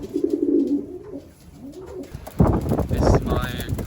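A racing pigeon, a club champion just back from a 150-mile old bird race, gives low, close, rolling coos, followed by louder rustling and shuffling movement near the loft.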